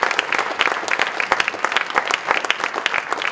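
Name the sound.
audience applause at theatre performance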